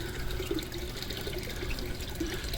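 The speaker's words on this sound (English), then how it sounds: "See how it flows down. Gives nice aeration to the water." Water pours steadily down a waterfall in an RDWC hydroponics system, making a constant close gurgling, splashing rush with no pauses.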